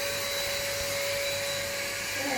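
An Ambiano cordless vacuum cleaner from Aldi runs steadily indoors, a constant close motor hum and whine with no talk.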